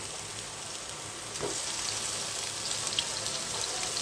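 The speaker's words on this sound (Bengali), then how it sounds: "আজকে বেগুন ভাজাটা আমি এই ফ্রাই প্যানটা করবো একে একে সবগুলো বেগুন ভাজা দিয়ে দেবো" Eggplant slices fry in hot oil in a frying pan with a steady, close sizzle that grows slightly louder partway through, plus a few faint pops and crackles. No one speaks.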